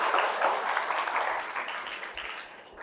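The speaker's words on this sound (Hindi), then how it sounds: "जोरदार तालियां।" An audience at a Buddhist vihara gathering in Chhattisgarh breaks into loud, sustained applause, a dense wash of clapping that slowly fades over a few seconds.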